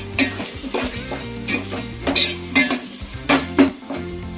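Potatoes with salt and ginger garlic paste are stirred in a sizzling pan for pulao, a spoon scraping and clinking against the metal in repeated strokes over a steady fry.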